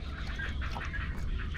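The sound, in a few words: birds calling on a small island in a bay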